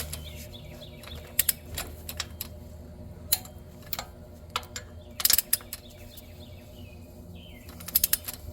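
A ratchet or torque wrench works on a bolt during a 6.0L engine replacement on a 2020 Chevy Express 3500 LS van, giving scattered short bursts of sharp, rapid clicks close by.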